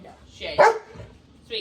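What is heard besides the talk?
dogs barking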